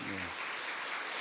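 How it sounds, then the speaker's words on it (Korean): A church congregation at Sunday worship applauds to welcome a missionary serving in Egypt, a steady wash of clapping, with a voice briefly audible at the start. "우리 박수로 환영하겠습니다"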